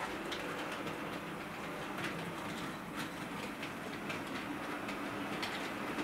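Class 37 diesel locomotive-hauled train passing, a steady rumbling rail roar with rhythmic wheel clicks throughout, fairly distant and constant, birds faintly in the background.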